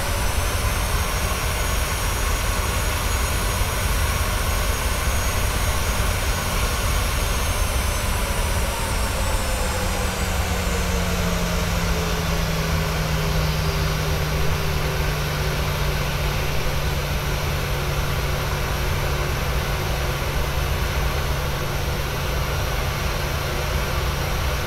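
Steady roar of Boeing 737-800 jet engines taxiing in Microsoft Flight Simulator 2020, a continuous loud whine with a slowly falling tone as the engines spool down, no talk heard.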